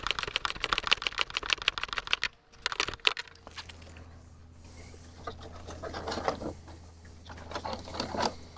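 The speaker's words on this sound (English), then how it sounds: "get the bolts put on here to tighten this in" A ratchet fitted with a 10mm socket clicks in rapid bursts while tightening bolts on LED fender markers, a brisk close ratcheting that pauses and then resumes more quietly.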